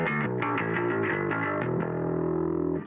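A clean bass guitar tone through a pedalboard with an EBS pedal plays a steady run of plucked notes, full and slightly gritty, close and alone with no voices.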